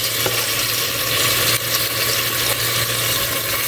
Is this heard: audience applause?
no